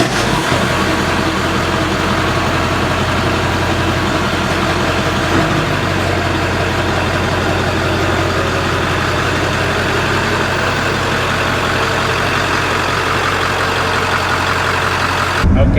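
A Ford 7.3 Powerstroke diesel truck engine turns over and settles into a loud, steady idle, its deep low clatter and rumble continuous and close for the whole stretch, no talking.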